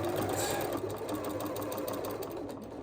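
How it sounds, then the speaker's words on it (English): Sewing machine with a walking foot stitching a topstitch seam through quilted fabric, a steady close whirring drone of rapid needle strokes running continuously without pause. "So I'm going to stitch, stitch, stitch until I am about the distance of the seam"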